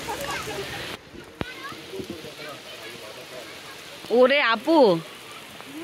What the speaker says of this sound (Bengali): কড়া বৃষ্টি হচ্ছে, তুফানি বৃষ্টি